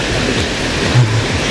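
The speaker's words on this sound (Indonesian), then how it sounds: "Di sini sungainya sudah mulai kelihatan dan di sungai juga ada warung baru" A river flows beside a hiking trail up Bukit Cendono. It makes a loud, close, continuous rushing wash of water with a steady broadband texture and a brief low thump partway through.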